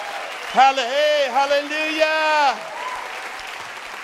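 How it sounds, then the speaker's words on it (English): Church congregation applause forms a steady wash of clapping beneath a loud, drawn-out shouted voice that rises and falls for about two seconds, then the applause continues more softly. "give the Lord a mighty hand of applause as you sit down"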